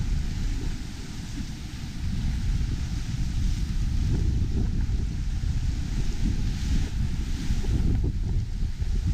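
Steady wind rushing and rumbling against a microphone aboard a small sailboat crossing open sea solo toward Grenada, with waves washing continuously underneath, loud and unbroken throughout.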